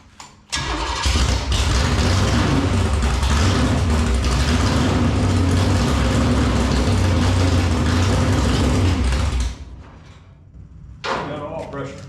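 A 496 stroker V8 in a pro street Chevy II cranks and fires, then runs loud and steady for about nine seconds before dropping to a rough idle; voices can be heard around it.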